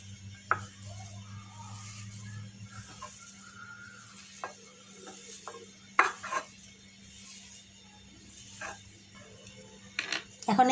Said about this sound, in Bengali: এখন এটাকে ভালোভাবে মিশিয়ে দেবো।